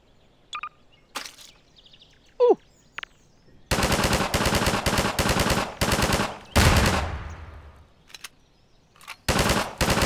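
Gunfire in the video game Garry's Mod: several rapid automatic bursts, close and loud, separated by short pauses, with a few isolated sharp shots and faint game sounds between them.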